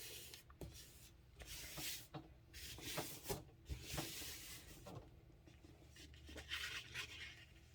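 A fingertip rubs and spreads glue across book pages being turned into cardstock, giving soft, close, intermittent papery swishes and brushing strokes with no talking.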